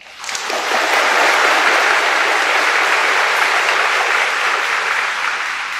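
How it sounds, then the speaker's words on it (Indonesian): Applause from a large crowd at a National Santri Day ceremony at an Islamic boarding school in Indonesia, a dense, loud clapping that swells within a second and stays steady throughout, with no talk over it. "Beri tepukan."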